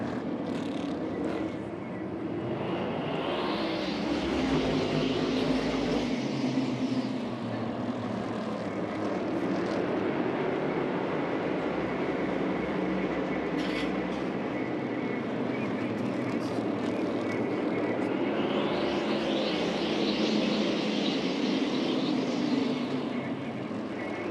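A pack of 23 NASCAR stock cars races on the short track at Bowman Gray Stadium, a loud, continuous engine roar that swells twice as the field sweeps past.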